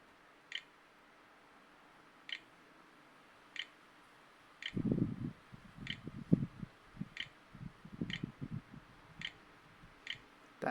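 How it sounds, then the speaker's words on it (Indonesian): A password is typed on the internal keyboard of a Lenovo IdeaPad Slim 1 14AST laptop with an AMD A4 processor: soft, irregular keypress taps over a steady, faint, regular ticking that runs throughout. "Kita masukkan password menggunakan keyboard internal"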